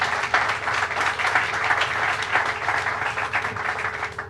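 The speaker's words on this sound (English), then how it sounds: "Give them a round of applause." An outdoor press-event crowd gives a short round of applause, brisk overlapping claps that stay fairly even and close for a few seconds.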